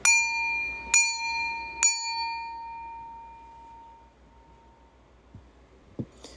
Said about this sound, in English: It's time to ring this bell 3 times.